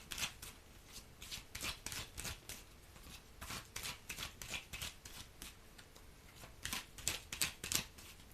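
Tarot cards shuffled and cut by hand, a steady run of crisp riffling flicks and soft slaps close to the microphone, with no talking over them.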